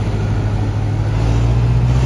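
A Renault 834 tractor with a Renault engine passes by on a local tractor run, giving a steady, loud diesel drone with low rumble and broadband engine noise across the whole stretch, no talk.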